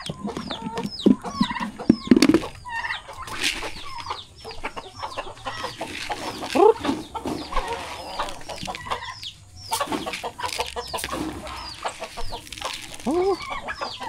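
Hens at a small backyard coop clucking and squabbling over eggs, a busy overlapping chorus of close clucks and squawks with a few sharp cries, quiet talk now and then among them.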